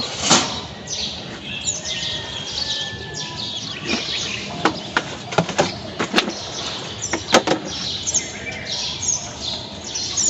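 Two pet birds, one of them yellow, flutter their wings in a cage, with a few sharp flapping bursts and faint chirps over a steady background of rustling and movement.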